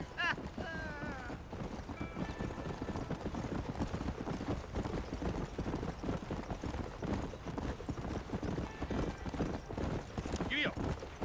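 Horse hooves clip-clop in a quick, steady galloping rhythm across the Wild West in the video game Red Dead Redemption, with a brief whinny, while voices talk over the hoofbeats.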